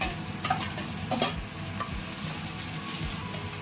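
Mixed vegetables and chillies for a cabbage curry sizzle steadily in a hot pan, close and fairly loud, with stirring scrapes and soft clatter throughout and no talking.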